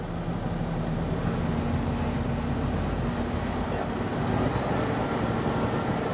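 A UNICAT expedition truck reverses uphill off-road in first gear, giving a steady, loud low engine drone with a rising whine, heard close from inside the cab with no talk.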